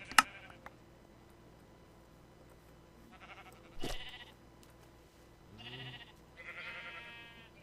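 Video game sheep bleat in a few separate short cries, some wavering, with faint clicks between them, quiet and fairly close.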